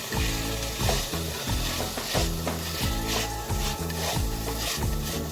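Onions sizzle steadily in rendered bacon fat in a pan for carbonara, a constant crackling fry broken by rhythmic scraping and stirring strokes, close and clear with no talking.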